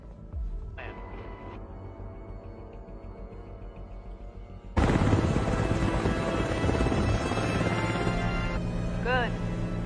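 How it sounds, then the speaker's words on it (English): A low mechanical drone starts, then a helicopter's rotor roar swells in suddenly and stays loud and close, with a brief chirping tone near the end. "We have an incoming helicopter."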